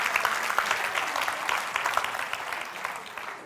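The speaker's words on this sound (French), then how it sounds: "Est-ce qu'on peut applaudir toutes les cuisinières ici ce matin?" An audience applauds the women cooks present at a morning talk, steady clapping throughout with no voice over it.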